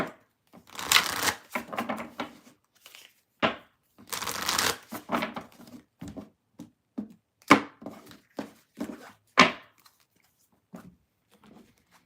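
Tarot cards being shuffled by hand, with bursts of riffling and bridging separated by crisp individual snaps and taps, close and alone with no talking.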